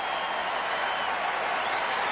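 A large crowd at the 1995 US Open women's tennis final cheers and applauds in a broad, steady roar with no breaks, fairly distant and sustained.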